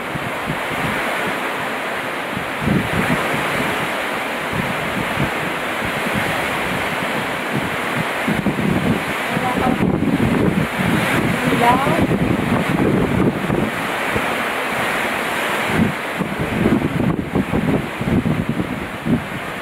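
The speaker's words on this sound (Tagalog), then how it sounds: "para makita nyo kung gaano kalakas yung hangin dito sa amin" Strong wind roars and buffets the microphone continuously, a dense rushing noise with gusty surges, while a person talks intermittently beneath it.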